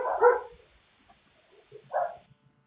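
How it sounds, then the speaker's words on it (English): Dogs bark in two separate bursts, a loud bark at the start and another about two seconds later, fairly close indoors with quiet gaps between. "my dogs are getting noisy"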